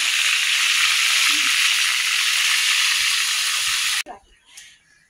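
Beef roast pieces fry in a pan with a loud, steady sizzle that cuts off abruptly, leaving a brief quiet stretch with a faint clatter.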